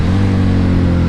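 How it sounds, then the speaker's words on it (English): Harley-Davidson V-Rod 100th Anniversary motorcycle engine downshifting, a loud, steady deep rumble with strong low harmonics that holds close and continuous throughout. "I just love downshifting this thing"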